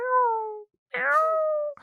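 Two drawn-out, wavering cat meows separated by a short pause, fairly close and clear with no other sounds.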